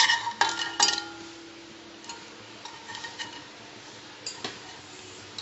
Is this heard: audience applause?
no